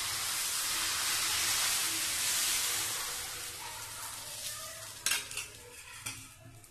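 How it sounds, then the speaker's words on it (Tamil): Ragi, kambu and solam mix dosa batter sizzles steadily on a hot pan, a broad hiss that slowly fades, followed near the end by a few sharp clinks and scrapes of a utensil. "இன்னொரு தோசை வச்சு ஊற்றுறாங்க."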